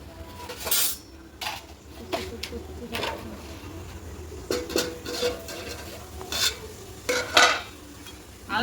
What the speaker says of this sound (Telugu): మిరపకాయల పేస్ట్ వేగిపోయింది పచ్చివాసన పోయేటట్టు బాగా యాగాలి